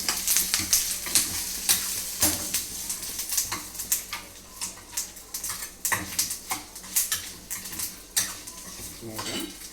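Whole fenugreek seeds, dried red chillies and asafoetida crackle and sizzle in hot oil for a Telugu tempering, with a spoon clinking and stirring against the pan in steady bursts, loud and close.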